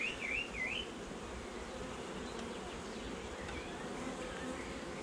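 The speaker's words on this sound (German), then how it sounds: "Die Biene, die ihr möglicherweise in der Kamera hört, das ist die Wächterin." A guard honeybee buzzes close by at the hive entrance, a steady insect drone with brief wavering tones early on, alone without talk.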